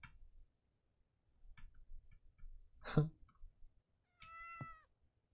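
A kitten meows close by, a couple of soft mews followed by a clearer rising cry near the end, with faint ticking and clicking sounds in a quiet room.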